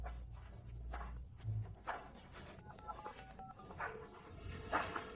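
Short electronic beeps of a phone being dialed, a few quick tones in a row over faint background noise.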